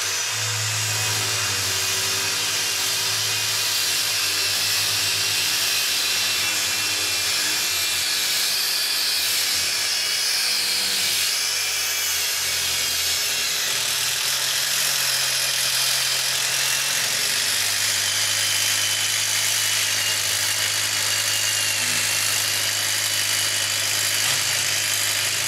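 Milwaukee 2853-20 and Makita XDT16 cordless impact drivers run side by side driving screws, a loud continuous buzzing hammering whir that holds steady for the whole stretch, with the pitch dropping partway through.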